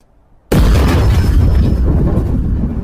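A tank cannon shot striking a T-34 tank from the side in a war film, an abrupt loud boom after brief quiet, followed by a sustained heavy rumbling roar.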